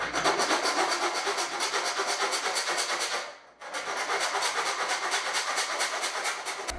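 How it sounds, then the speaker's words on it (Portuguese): A round metal file rasps steadily back and forth across a steel bar during metalworking, a dense, continuous scraping rhythm with one brief pause midway, close and loud, with no talking. "Repara que eu uso um cabo do martelo também para guiar a lima."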